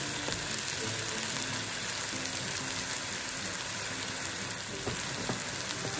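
Onion and garlic powder frying in a wok, giving a steady, dense sizzle that crackles evenly throughout with faint clicks of stirring underneath and no talking.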